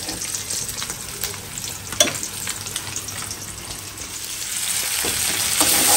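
Ginger, garlic, onion, a dried chili and turmeric powder sizzle steadily in hot oil, with occasional stirring scrapes and small clinks over a continuous frying hiss.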